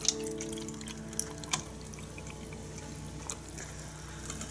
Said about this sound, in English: We're going to do a little pour here. Cover that first cube.